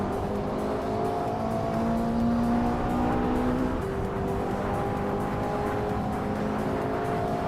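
A 1993 LM supercar pulls away from a speedway start line, its engine note climbing steadily in pitch as it accelerates, loud and close with other cars droning alongside throughout.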